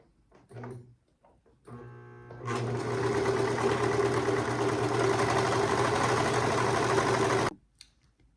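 A serger overlock sewing machine runs steadily for about five seconds while stitching fabric at the edge, loud and continuous. Brief clicks come before it, and it stops abruptly.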